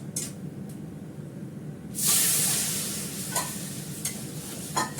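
Tempered spices (five-spice phoron) sizzle in a pan over low gas, a steady soft frying hiss with a sharp burst of spray and sizzle partway through, then faint clinks of stirring, close and with no talking.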